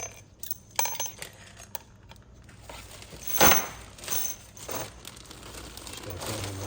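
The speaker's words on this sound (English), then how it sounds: "I'm just going to take all these bolts out" Bolts come out of a 4L80E transmission valve body one after another, with small metallic clinks and rattles of loose hardware and tools, close up and intermittent, with no speech.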